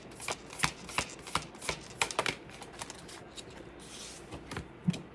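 Tarot cards being shuffled and drawn, a run of crisp, close riffling flicks and soft slaps in an irregular rhythm, quiet and alone.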